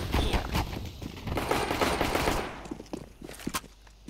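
Rapid bursts of gunfire in Counter-Strike on the de_Anubis map, dense and close for the first few seconds, then thinning into scattered single shots.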